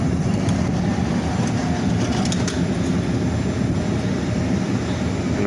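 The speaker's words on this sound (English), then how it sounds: "trains usually show up at the same time going in opposite directions." A train rolls past at a rail stop beside an old coffee plant, a steady, loud broadband rumble and rush of wheels and cars that holds constant throughout, close by and with no voices.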